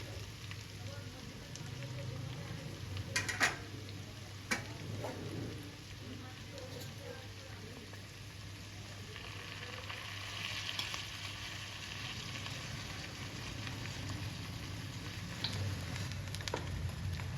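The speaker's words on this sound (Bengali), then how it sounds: "তো আমি ফোড়নের মধ্যে ভাজা গাজর কুচি, ডিম ভুজিয়া আর চিংড়ি মাছ, কুচো চিংড়ি মাছটা সব দিয়ে ভালো করে নাড়াচাড়া করে নিচ্ছি।" Fried carrot, egg and small shrimp are stirred in a hot frying pan for fried rice, with a steady close sizzle, occasional scraping knocks of the spoon, and a voice in the background at times.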